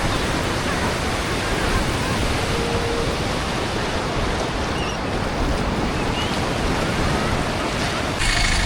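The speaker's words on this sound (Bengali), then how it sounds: "এই দেখুন সমুদ্রের উত্তাল ঢেউ" Rough sea waves at Puri beach roar as a loud, continuous wash of surf close by, with faint voices beneath.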